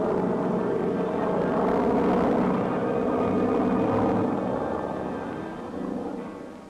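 A WWII tow plane drones overhead during an aerial glider pickup in Normandy, June 1944, a steady rumbling propeller engine that swells and then slowly fades, with no voices.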